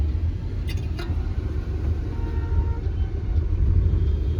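Cars sit in a heavy traffic jam near Santragachi, with a low, steady engine rumble from idling vehicles and a few faint high chirps, heard from inside a car.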